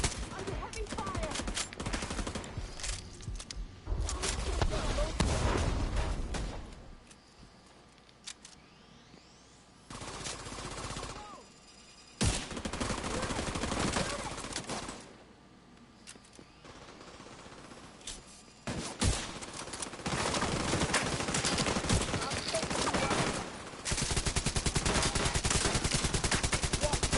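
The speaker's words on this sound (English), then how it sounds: "Under heavy fire." Heavy gunfire in a control-point battle in a video game comes in surging waves of rapid automatic shots, loud and close, easing between volleys, with occasional voices beneath.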